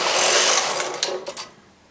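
A knitting machine carriage is pushed across a row of needles and back, giving a steady rushing mechanical whir that fades near the end, with a few sharp clicks as it finishes.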